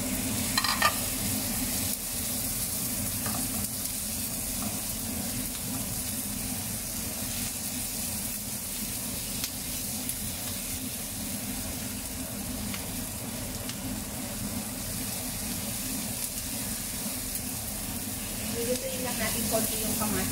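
Garlic and tomato frying in a pan for a chicken, potato and bean dish, with a steady close sizzle and occasional stirring scrapes running unbroken throughout.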